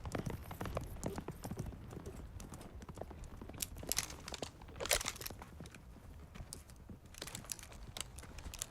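Horse hooves clip-clopping in an action film scene, an irregular run of hoof strikes mixed with crunching footfalls and rustling, fairly close and steady throughout with no talking.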